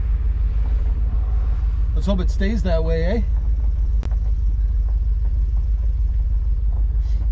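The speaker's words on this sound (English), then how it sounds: "Engine sounds flawless." A 1979 Wagoneer with a HEMI engine swap and EFI all-wheel-drive conversion idles with a steady low rumble throughout, while someone speaks briefly over it.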